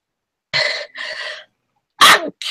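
Sharp, breathy sneeze bursts come close and loud, a couple in quick succession and then a stronger one, with silence between and no talk.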